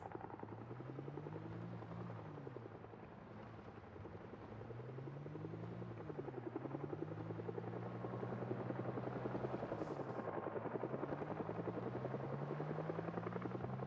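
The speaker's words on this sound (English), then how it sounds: "I think the helicopter comes around again." A helicopter passes overhead in Project Zomboid, a steady throbbing rotor drone with a motor hum that slowly rises and falls in pitch, moderately faint and distant at first and a little closer later, with no voices.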